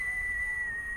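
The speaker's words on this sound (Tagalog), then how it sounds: "may narinig kayong parang sipol" A single steady high whistle tone holds unbroken for about a second, clear and fairly loud, used as a sound effect during a tabletop game session, with no voices.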